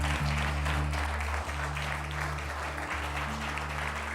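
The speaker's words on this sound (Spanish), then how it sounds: "¿Qué te parece si le damos más fuerte ese aplauso a nuestro Dios?" Church congregation applauding, a dense steady wash of clapping that stays loud throughout with a low organ or keyboard drone held underneath, no voices standing out.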